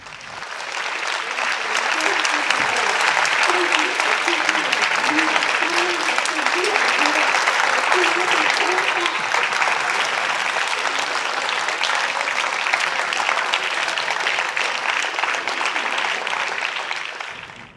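Traders on a Tokyo trading floor break into sustained applause as the Nikkei hits a record high, a dense, steady wash of many hands clapping for the whole stretch, with faint voices mixed in underneath.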